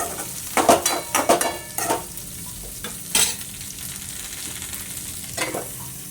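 Chopped tomatoes stirred into a hot pan for a ridge gourd peel chutney, sizzling and frying with a series of scraping stirs in the first few seconds, then a steady soft sizzle with occasional clinks.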